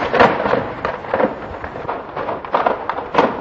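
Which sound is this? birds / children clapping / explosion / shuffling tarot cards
explosion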